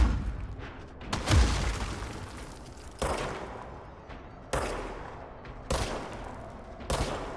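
Gunshots in a third-person shooter game ring out in a rapid burst followed by several separate heavy shots spaced about a second apart, each loud and sharp with a short decaying tail.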